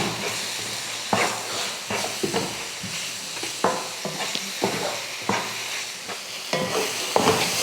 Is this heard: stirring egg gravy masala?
yes